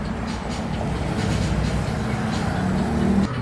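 A motorcycle engine, recently repaired at a repair shop in Baclayon, Bohol, runs loud and close with a steady, heavy rumble as the throttle is blipped, swelling slightly near the end before dropping off.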